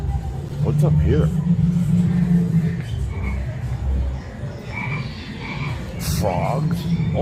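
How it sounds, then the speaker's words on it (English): Loud, repeated croaking of animatronic frogs inside the Rainforest Cafe on the Las Vegas Strip, heard among a low rumble of indoor crowd noise with people talking nearby. "Frogs? All sorts of stuff."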